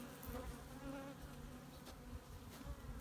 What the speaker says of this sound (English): as you can see, I've got bees on the lid